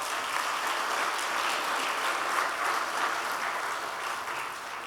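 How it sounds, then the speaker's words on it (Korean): Steady, sustained applause from a church congregation at a graduation service honoring graduating students and teachers, a dense even clatter of many hands lasting throughout without speech. "다 함께 힘찬 박수로 노고를 취해 주셨으면 감사하겠습니다."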